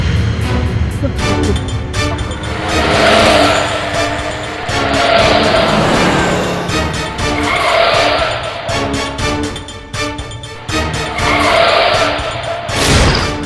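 A car races and brakes hard in repeated bursts of tire squeal and skidding over engine roar, loud and close, surging and fading several times before a final sharp screech.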